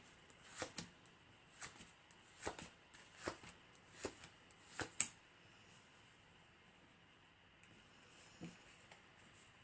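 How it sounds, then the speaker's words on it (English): Cards pulled one after another for a spirit card reading, giving a series of about seven soft, crisp flicks and slaps at a steady rhythm, fairly close but quiet, with a few fainter rustles afterward and no talking. "Okay, Amanda, I'm going to pull 3 cards here"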